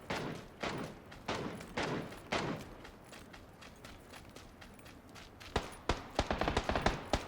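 Gunfire in the battle-royale game PUBG: several sharp, echoing shots spaced across the first few seconds, then a quicker run of crisp bursts near the end, with quieter footsteps and rustling in between.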